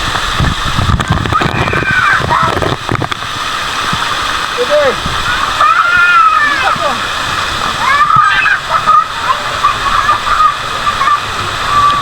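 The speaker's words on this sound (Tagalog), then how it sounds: "Doon tayo punta sa may tubig sa falls." A waterfall roars steadily at close range with splashing water, and adults and children talk and call out over the constant rush.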